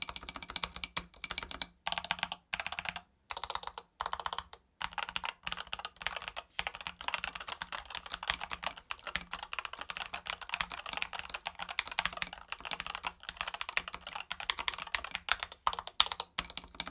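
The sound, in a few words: typing on gaming keyboard with rapid trigger switches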